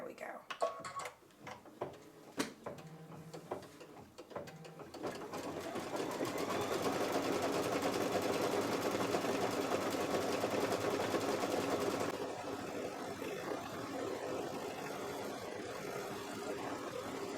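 A home embroidery machine stitching an applique in a small hoop, steady rapid mechanical chattering close by that runs for several seconds and then eases slightly in pitch, after a few clicks and a short spoken remark at the start.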